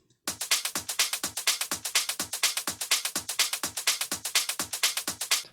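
Fast percussion loops from a melodic house drop. Quick, bright, noisy hits repeat in a rapid, even pattern of roughly six per second with a pumping, ducking swell, fairly quiet and with no voices.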